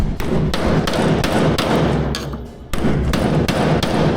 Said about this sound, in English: That's penetration right there. Yeah, the chisel is penetrating.